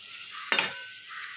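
Spice masala with green chillies being sautéed in a pan for a lote fish and potato curry, heard as two brief, sharp sizzling stir-scrapes against a quiet background.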